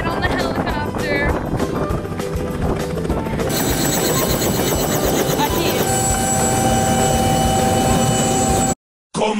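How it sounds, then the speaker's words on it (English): Tourist helicopter ride over Punta Cana, heard as a loud, continuous engine and rotor roar with wind buffeting from inside the cabin. Voices and music run underneath, and the sound shifts in character partway through before cutting out abruptly. "We are finally heading out to ride on the helicopter."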